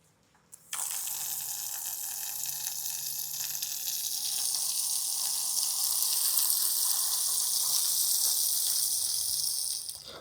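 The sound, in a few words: strong water flow from tap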